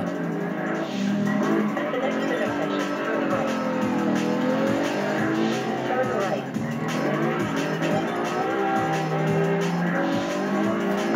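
A V12 car drifting in the racing game Test Drive Unlimited, its engine revving up and down through sweeping pitch changes while tires squeal and skid, with a voice talking over it throughout.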